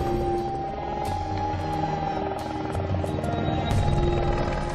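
A helicopter in the Marquesas Islands drones steadily with a whining engine tone over the rumble of its rotor, continuous and fairly loud throughout.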